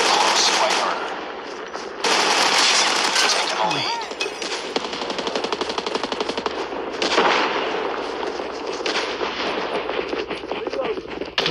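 Rapid automatic gunfire rattles through a ranked Call of Duty match on the Nuketown map, with bursts of dense shots, short pauses and overlapping game sounds, close and loud throughout.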